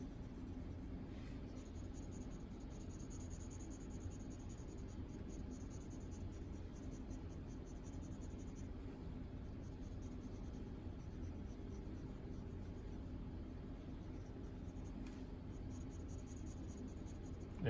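A pencil shading a drawn sphere on paper, the graphite scratching in a steady, continuous soft rasp that stays close and quiet throughout, with no talking over it.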